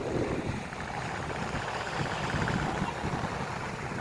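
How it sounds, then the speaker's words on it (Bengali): Steady engine drone and water wash from a fishing boat on the sea at Cox's Bazar, near Nazirartek fish-drying village, with wind buffeting the microphone throughout. "মাছ ধরার নৌকা"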